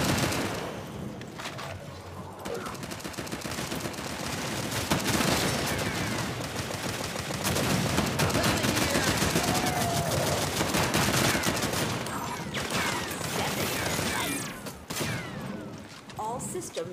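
Gunfire and a grenade blast in the mobile shooter Shadowgun War Games: dense bursts of automatic weapon fire and thuds run nearly continuously and loudly, with in-game voice lines over the battle.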